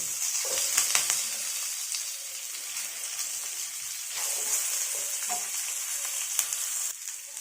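Chopped onion and curry leaves sauté in a pan with a steady, moderately loud crackling sizzle and occasional stirring scrapes, with no voices.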